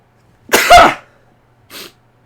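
One loud, close sneeze, followed a moment later by a softer, brief exhale or sniff, with silence around it.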